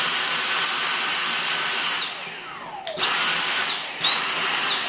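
A Dyson V6 (DC59) cordless vacuum cleaner with freshly cleaned filters runs with a loud, high-pitched motor whine, winds down after two seconds, then restarts and briefly dips before revving back to full speed.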